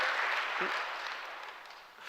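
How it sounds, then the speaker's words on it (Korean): Church congregation at a Korean Presbyterian Sunday service applauding, a short burst of many hands clapping together that fades out gradually across the sanctuary. "우리 서로를 위해서 한번 박수합시다."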